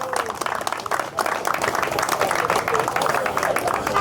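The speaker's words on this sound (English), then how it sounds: "I want you to give those officers that arrested that man a round of applause" A crowd applauds police officers after an arrest in Bangor, steady dense clapping mixed with crowd noise and voices, fairly loud and continuous throughout.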